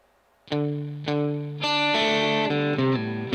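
Distorted electric guitar plays a lick slowly: two separate picked notes, then a run of bent and sliding notes that rings on at the end.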